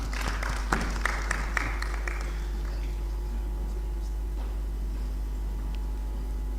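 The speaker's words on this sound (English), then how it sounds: "I ask that you give them another round of applause." Audience applause at a formal debate event, a burst of clapping that fades out over a few seconds beneath a constant low hum.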